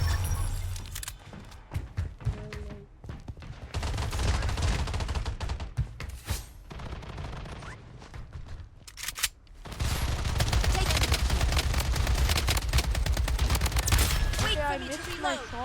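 Rapid bursts of automatic gunfire from the shooter video game Blood Strike, loud volleys broken by short pauses, with a heavier sustained barrage near the end and game sound effects in between.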